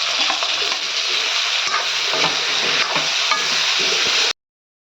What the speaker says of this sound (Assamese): আলু কণী কেপচিকামখিনি ফ্ৰাই হ'ব ধৰিছে